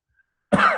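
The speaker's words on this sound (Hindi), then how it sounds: "खांसी आ रही है" After near silence, a man gives one sharp, close cough that trails off briefly in a quiet room during a maths lecture.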